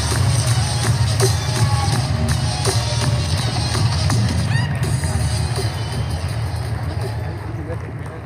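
A crowd roars and cheers steadily as a left-leaning speaker walks out on stage, a loud, dense wash of voices and whoops that holds for several seconds before easing slightly.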